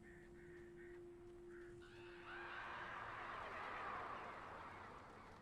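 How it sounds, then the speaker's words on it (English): A few hoarse crow caws in the video game Alan Wake stand out in the first two seconds over a steady low hum, then a broad rushing noise swells and covers the rest. "You hear that? They cawed at me."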